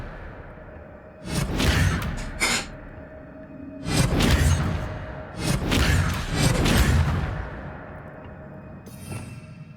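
Expelliarmus disarming spell cast in Hogwarts Legacy, loud swooshing magical bursts with crackling impacts in a few separate waves, close and alone.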